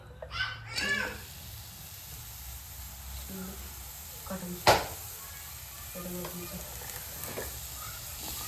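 Onion fries in a pan for a spicy fenugreek curry, a low continuous sizzle with occasional clinks and one sharp utensil knock, while someone talks and children's voices sound nearby.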